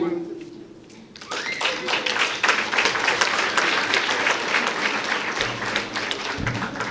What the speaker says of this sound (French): c'est le moment d'applaudir très chaleureusement Colebat Bénin